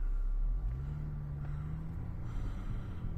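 A Lexus GS250 pulls away with a low engine rumble that rises gently as it gets moving, steady and close, with no talking.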